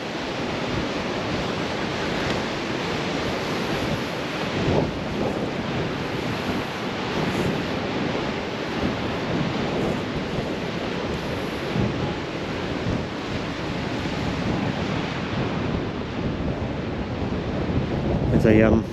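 Sea waves wash over a wide expanse of weathered basalt rocks at Giant's Causeway in Northern Ireland, a continuous roaring surf mixed with gusty wind buffeting the microphone throughout.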